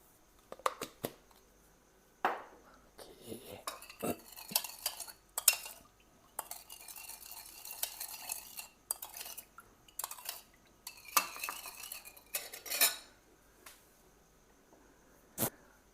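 Spoon clinking and scraping in a bowl while a sugar, lime juice and fish sauce dressing for a Thai mango salad is stirred, in irregular bursts of metallic taps separated by short pauses, with no talk.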